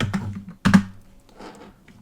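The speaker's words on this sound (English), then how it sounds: "let's hit N on the keyboard" Computer keyboard keys pressed during 3D modeling work, a few sharp close taps: two quick clicks, a louder double strike, then quieter soft tapping trailing off.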